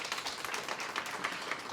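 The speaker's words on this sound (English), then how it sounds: "Another round of applause for our students" Audience applause for students at a university department's pledge and oath-taking ceremony, a short steady patter of many hands clapping, fairly faint and continuous with no voices over it.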